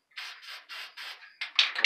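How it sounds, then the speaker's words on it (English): Test bursts from a black spray paint can: four short, even hissing sprays in a row, then a few quicker sputtering spurts, close and fairly loud with no talking. "Do a test spray."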